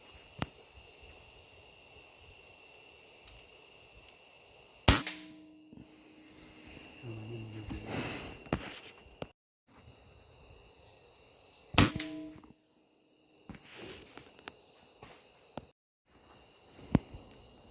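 Gunshots ring out while hunting in a forest, two sharp cracks several seconds apart standing out above quiet ambient sounds and scattered rustling and knocks, with no talk.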